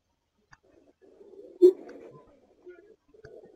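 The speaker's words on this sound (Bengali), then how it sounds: "এগুলো আমরা যেগুলা দেখা যায় এগুলো আমরা গ্রিবাস কবুতর, সব আমরা গ্রিবাস কবুতর।" Pigeons on a farm give soft, low cooing calls, faint and intermittent, with brief rustles in a quiet setting.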